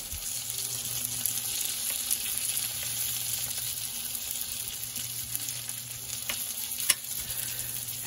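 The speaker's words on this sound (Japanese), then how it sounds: "目玉焼きはちゃんと火を通します" An egg fries in oil for a bento lunch, a steady close crackling sizzle that runs unbroken throughout, with no talking.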